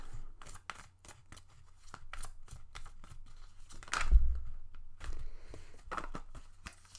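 Tarot cards are shuffled and drawn close by in a quiet room, a rapid series of crisp slaps and riffles followed by softer sliding and tapping as cards are laid down.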